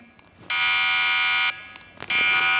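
In the Roblox game Break In 2, an alarm rings outside as a loud electronic buzzing blare that sounds for about a second, stops briefly, then starts again, with no speech.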